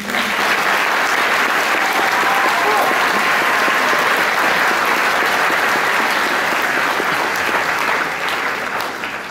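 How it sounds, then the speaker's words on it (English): Sustained audience applause fills a hall at a Massey High School senior prize giving, dense and loud without pause for about nine seconds before easing slightly at the end. "I'm sure another round of applause is welcome for you."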